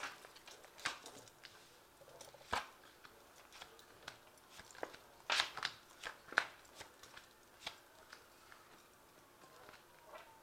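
Soft, scattered tarot card snaps and slides as cards are drawn from a shuffled deck and laid down one by one, quiet and close, with irregular pauses between them.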